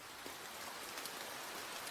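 Steady rain falls in the video game Nie No Hakoniwa, a soft, even hiss of drops with no break or voices. It is faint and continuous.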